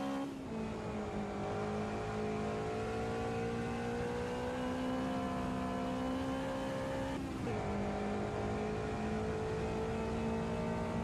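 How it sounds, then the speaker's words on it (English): A vintage race car engine in the racing game Automobilista 2 holds a steady high rev on a circuit, loud and continuous with a brief gear-change dip near the end, and no talk. "Just those vintage engine sounds are great."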